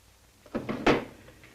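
A desk drawer in an office is opened and shut during a search, giving two quick wooden sliding knocks followed by a louder thump and a short scrape, close and clear.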